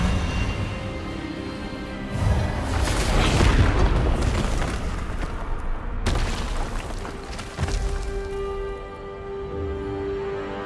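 An Expelliarmus spell cast in Hogwarts Legacy bursts out as a deep, booming magical blast that swells and rumbles for several seconds, followed by a second sharp burst and a lingering ringing tone.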